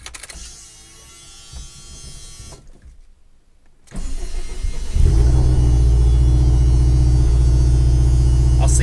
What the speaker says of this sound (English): let's go ahead, start the car,